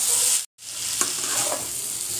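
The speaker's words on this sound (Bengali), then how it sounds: "সামান্য একটুখানি চিনি, আবার নাড়বো সব একসাথে" Spiced green jackfruit curry with salt and a pinch of sugar stirred in a pan, a steady close sizzle with scraping strokes, broken by a short silent gap early on.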